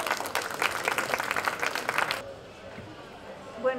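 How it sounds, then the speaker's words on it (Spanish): Loud applause from an audience at a book presentation, many hands clapping at once, then it stops abruptly and the room falls quiet. "recibamos con un fuerte voto de aplauso"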